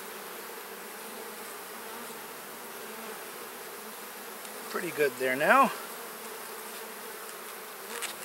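Honeybees buzzing during a hive inspection where burr comb is being removed: a low, steady hum rises into a brief, louder, wavering buzz close by, with a few quiet spoken words.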